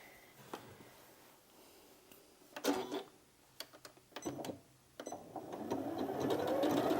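Janome Memory Craft 9480QCP sewing machine stitching: short whirring bursts and ticking starts, then a longer, steadier run of fast mechanical stitching building up at the end, close and clear.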